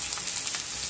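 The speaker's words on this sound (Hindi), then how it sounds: "1 कढ़ाई में मैंने 2 टेबल स्पून तेल को गरम कर लिया है, जिसमें हम 2 हरी मिर्च कटी हुई डाल देंगे" Green chillies and chopped vegetables sizzle steadily in two tablespoons of hot oil in a kadai, a continuous close frying hiss with no talk.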